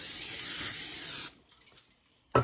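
A spray bottle or can mists sugar-seasoned grill ribs in one steady, close hiss lasting over a second, then stops, followed by a short sharp burst near the end.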